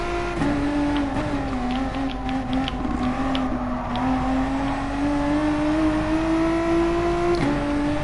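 In a PlayStation racing game, a Volkswagen GTI Clubsport Edition 50 is driven through a lap, its engine drone holding steady and loud, pitch rising gradually, with a brief dip near the end as a gear changes.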